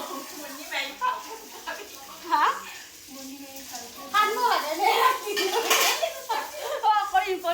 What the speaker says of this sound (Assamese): বেচেৰিয়ে আমাক খুৱাই থৈ বাচন মাজি আছে মাজতে